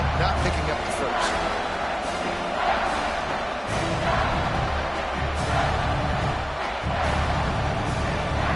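Dense, roaring stadium crowd cheering at a video-game American football league match in CF 26. The noise is loud and continuous, swelling at times, with commentators talking over it.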